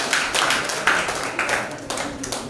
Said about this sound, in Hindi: चलो ताली बजा दो